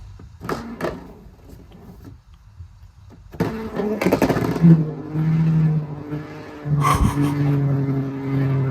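A Takara Tomy Phoenix Wing Beyblade spins up close after a few clicks, settling into a steady, sustained whirring hum that carries on to the end.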